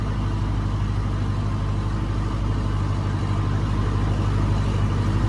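An MTZ tractor plows a field in early spring, a continuous heavy low engine drone with no breaks or other sounds.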